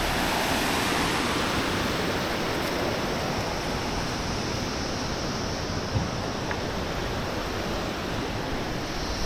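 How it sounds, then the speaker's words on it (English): A river flowing on the Poon Hill trek in Nepal, a steady broadband rush of water that stays close and loud and never lets up, with no voices over it. "We're at the river."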